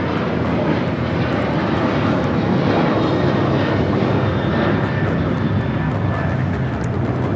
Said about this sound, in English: That is Delta Airlines 986 taking off to Austin on the 737-900ER